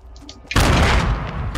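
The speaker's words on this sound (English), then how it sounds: "did you just blow something up" A sudden loud explosion in Fortnite bursts in after half a second of quiet game sounds, a heavy deep boom that rumbles on and stays loud to the end.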